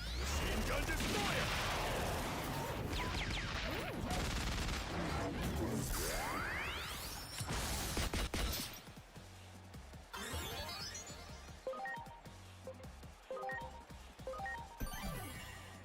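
A machine gun attack in the video game Digimon Story Time Stranger brings a loud burst of whooshing effects and crashes, then a run of rapid, punchy gunfire-like hits with short gaps between them.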